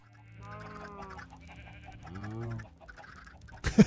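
Chicken clucking in Minecraft, several short throaty clucks in a quick uneven series, fairly close and clear over a quiet background, with no talking.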